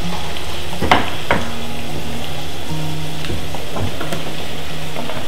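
Tomato goes into caramelized onion in a ceramic pan, setting off a loud, steady sizzle of frying with occasional clicks and scrapes of stirring, close and without talk.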